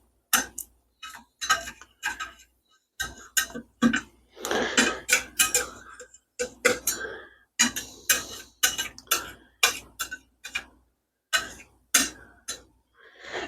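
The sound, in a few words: spatula scraping the sides of a pan of cooking sausage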